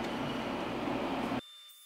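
A wooden bowl is sanded on a spinning lathe, giving a steady, loud, broadband rushing hiss that cuts off abruptly partway through, leaving faint high-pitched machine whine.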